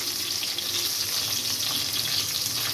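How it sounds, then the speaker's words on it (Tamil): Tomatoes, onions and chilies hit hot oil for an okra thokku, producing a dense, continuous close sizzle that stays loud throughout with no voices. "இப்போ வந்து நம்ம கட் பண்ணி வச்சுக்கிட்ட தக்காளி வெங்காயத்தெல்லாம் அதை சேர்த்துடலாம் மிளகா சேர்த்துக்கலாம்"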